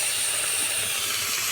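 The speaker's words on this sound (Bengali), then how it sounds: "এরপরে একটুখানি জল দেবো।" Water hits a hot pan of small potatoes and egg with turmeric, a constant loud steamy hiss and sizzle filling the short moment without pause.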